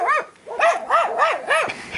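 A dog barks five or six times in a quick, fairly regular series, loud and close, with no talking over it.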